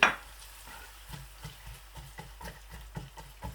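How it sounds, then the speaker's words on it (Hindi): Onions cook on low heat in a pan for a white chickpea dish, with soft, regular scraping stir strokes over a faint, quiet sizzle. "प्याज को हल्की आंच पर ही पकाएंगे।"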